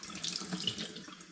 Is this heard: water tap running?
yes